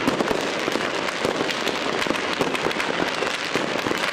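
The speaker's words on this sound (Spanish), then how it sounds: "observamos el punto de mayor detonación de fuegos artificiales en Navidad" Dense fireworks over Lima at Christmas, a continuous loud barrage of overlapping bangs and crackles from many launches across the city, heard from a distance with no pause.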